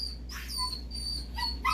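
A puppy whimpering in short high-pitched whines and yips, a few brief rising cries close by over a low steady background hum.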